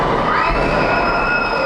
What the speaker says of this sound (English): you hear the crowd get behind him as he's able to push Willie